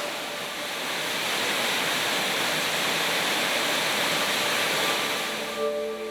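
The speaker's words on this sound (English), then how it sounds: "we saw this waterfall, and we were pretty happy to see it" A waterfall in a remote part of Arkansas rushes in a steady, dense, full roar that holds evenly throughout, with no voices.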